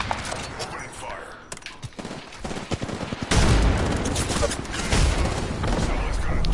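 Gunfire in the video game Apex Legends comes in rapid bursts of shots that get denser and louder partway through, mixed with other game effects and voice lines.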